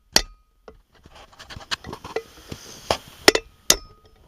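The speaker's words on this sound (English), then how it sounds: "We just set the punch against it, and then strike it with a hammer" Sharp metallic hammer strikes on a punch driving out a wheel bearing race on a 1978 Chrysler LeBaron ring out one at a time at an uneven pace, several loud clinks with short decays, close by and without talk.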